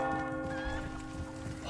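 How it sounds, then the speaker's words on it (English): A church bell tolls in the Resident Evil 4 video game, a resonant sustained ring with long humming overtones, heard alone and fairly loud. "Oh my god, the bell's ringing."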